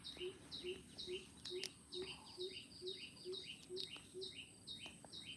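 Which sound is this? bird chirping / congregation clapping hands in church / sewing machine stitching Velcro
bird chirping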